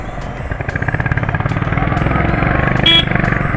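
A motorcycle rides along a road after rain with a loud, close, pulsing engine throb, and a brief horn toot near the end.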